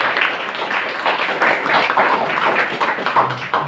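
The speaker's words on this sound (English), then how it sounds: "Let's give a round of applause to our women." A round of applause for women at a Finn Church Aid storytelling event: dense, steady clapping from a roomful of people, close and fairly loud for several seconds, with faint voices mixed in.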